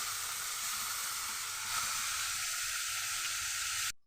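Chopped tomatoes and curry leaves frying in a pan give off a steady bright sizzle and hiss, close and even, which cuts off abruptly at the end.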